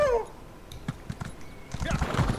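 A horse mount in the video game Elder Scrolls Online whinnies briefly, then hooves clip-clop in an uneven rhythm against a faint background, with no voices present.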